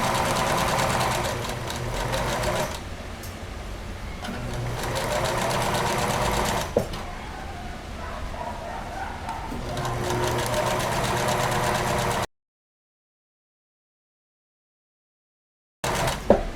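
Sewing machine stitching a zigzag seam on a plus-size bra, a fast steady whirring run that eases briefly and resumes, then stops into silence before a short restart, close and loud with no speech.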